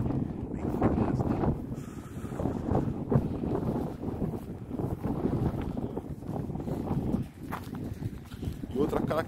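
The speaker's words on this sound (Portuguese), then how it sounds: "nesse momento aqui tá ventando um pouco" Wind blows outdoors across cold, rippled Chilean terrain, a constant low rumble buffeting the microphone throughout, with a person speaking over it.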